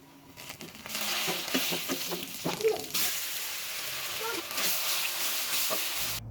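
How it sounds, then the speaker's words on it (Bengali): Chopped garlic sizzles in mustard oil in a wok, a steady frying hiss with crackles and stirring clatter that swells after the first second and runs on fairly loud. "একটা কড়াইতে পর্যাপ্ত পরিমাণ সরিষার তেল দিয়ে এর মধ্যে আমি রসুন কুচিগুলোকে অ্যাড করে ভালো করে নেড়ে চেড়ে"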